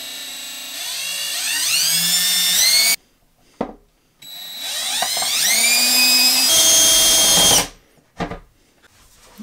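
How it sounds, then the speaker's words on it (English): A power drill whirs loudly in two long bursts drilling a pilot hole for a spade bit, its pitch climbing as the motor spins up, with brief pauses between them. "I'm going to drill a pilot hole for the spade bit to then go through"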